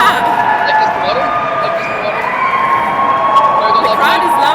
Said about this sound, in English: A standing ovation for Volley Bear.